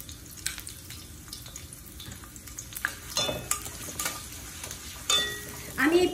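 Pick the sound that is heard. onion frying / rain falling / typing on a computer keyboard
onion frying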